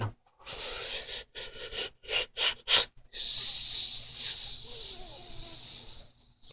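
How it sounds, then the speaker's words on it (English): Soft, slow breathing during a Shaolin-style focus technique: a run of short, airy breaths with gaps between them, then one long steady exhalation, close to the microphone with no talking. "You're breathing real soft, right? Real soft."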